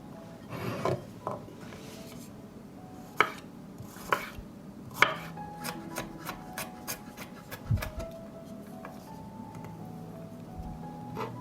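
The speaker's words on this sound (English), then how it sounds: "While the soup is cooking, chop the garlic and parsley." Garlic and parsley being chopped with a knife on a board in a home kitchen: sharp, close taps, at first sparse and then in a quick, even run, over a quiet background.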